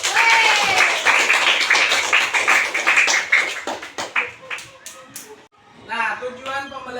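Pupils in a classroom clap together, a burst that thins into scattered claps and taps, with voices talking over the end.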